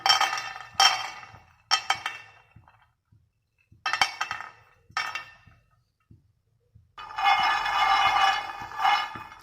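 Dry peanuts tipped into a pan on a stove for roasting give off sharp clinks and rattles in several short bursts, then a longer rattling stretch, close and fairly loud with no talk.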